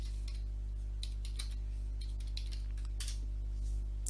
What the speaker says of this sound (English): So to test the installation, type command conda list.